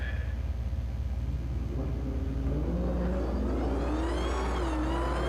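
A drag race car on a junior qualifying pass at a high-stakes grudge event, its engine rumbling low and then climbing steadily in pitch as it accelerates, heard from a distance under a continuous loud roar.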